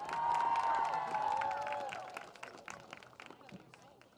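A crowd cheers and claps for a senior field hockey player during a senior-night ceremony, loud at first and then tapering off under a fading announcer's voice.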